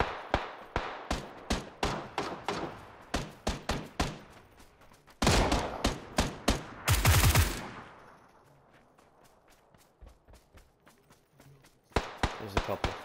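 Rapid bursts of in-game PUBG gunfire, with sharp shots in quick strings, a loud dense volley in the middle, a lull, then more shots at the end.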